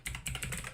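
Typing on a computer keyboard, close and fairly loud, with quick clusters of clacking keystrokes in an uneven rhythm and no talking.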